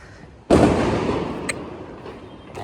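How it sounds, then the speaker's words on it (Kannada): A Diwali firecracker bursts on a Bangalore terrace with one loud sudden bang that decays slowly into a crackling rumble, followed by a sharp fainter pop and another distant crack. "ಪಟಾಕಿ ಹೊಡಿತವ್ರೆ"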